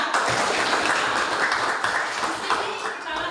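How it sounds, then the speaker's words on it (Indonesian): A classroom of students applauding for a classmate, a brief rush of scattered clapping that fills the room at moderate volume. "Tepuk tangan untuk si Elsa"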